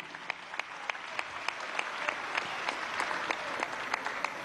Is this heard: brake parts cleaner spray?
no